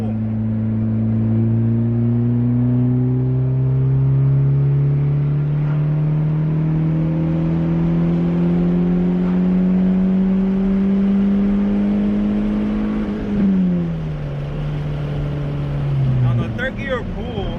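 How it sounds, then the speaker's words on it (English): A turbocharged Honda D15b engine with an eBay turbo kit pulls hard in third gear, its drone rising steadily in pitch as it accelerates, loud and continuous inside the car, then dipping briefly near the end. "Let's do a third gear pull."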